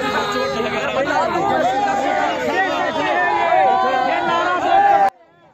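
A crowd of protesting EPS 95 pensioners in Delhi, dense overlapping chatter and shouting voices at close range forming a loud, continuous babble that stops suddenly near the end.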